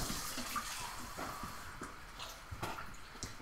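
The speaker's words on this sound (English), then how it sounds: "So let's get some water." Cold tap water runs steadily into a container for pie crust dough, a soft continuous splash with faint clinks, fairly quiet and without talk.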